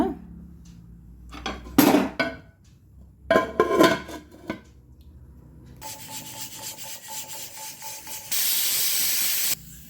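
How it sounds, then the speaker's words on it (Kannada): A pressure cooker of fenugreek greens on the stove lets out a loud, steady hiss of escaping steam at the end, after several sharp rubbing and scraping bursts nearby. "ಈಗ ಕುಕ್ಕರ್ 2 ವಿಸಿಲ್ ಕೂಗಿದೆ."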